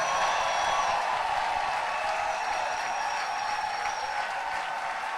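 Church congregation applauding and cheering, a steady dense wash of clapping and shouting voices that holds at an even loudness for the full stretch.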